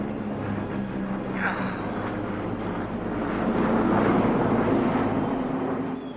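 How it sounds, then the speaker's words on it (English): A WWII P-38 fighter plane roars past overhead with a continuous loud engine drone and wind rush that builds toward the end, as people talk beneath it. "That's a P-38."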